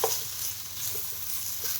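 Boiled potatoes and peas are stirred and mixed in a pan with a spatula, giving soft, quiet scraping and a light sizzle that continues with no talking.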